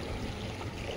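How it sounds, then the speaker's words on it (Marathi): Sea waves wash ashore at a beach in one steady, close, broadband rush of water that fills the whole second. "इथं त्या लाटा आल्या"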